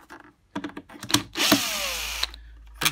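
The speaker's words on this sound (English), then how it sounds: "Now if I take out these screws here" Screws are taken out of a Vax 6131 wet and dry vacuum, giving close clicks and scrapes from the screwdriver and plastic housing, then a longer rattling whir near the middle before further handling knocks.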